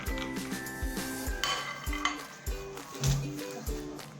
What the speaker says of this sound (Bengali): চিনে বাদাম খানিকগুলো নিয়েছি আমি এগুলো একটু ড্রাই রোস্ট করে নেব